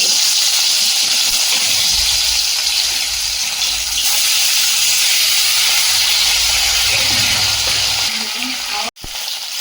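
River tuna fish fry in hot oil, giving a loud, continuous hiss and sizzle close by that fades toward the end and finishes in a sharp knock, with no voices.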